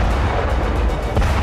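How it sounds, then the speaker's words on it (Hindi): Explosions in the war-hit city of Mykolaiv in southern Ukraine, heard as a dense, loud, continuous roar of blasts and rumbling with no clear pauses. "साउथ यूक्रेन के शहर मिकोलेव में सुबह सवेरे बारूदी धमाके होने लगे"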